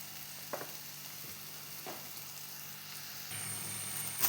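Nendran banana softening in a pan on the stove makes a faint, even sizzle with a few soft stirring taps, growing slightly louder toward the end.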